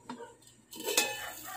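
A cooking pot on a stove is covered with its lid while fish simmers for ginataang tulinggan, giving a few close metallic clanks and scrapes of lid against pot, with one sharper clink near the end.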